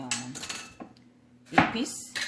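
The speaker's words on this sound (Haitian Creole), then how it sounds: "On a mettre l'huile dans le chaudière, mettre le chaud." A metal cooking pot clanks and scrapes at close range as oil goes in to heat for Haitian-style white rice, two or three brief bursts of clatter with a quiet kitchen between them.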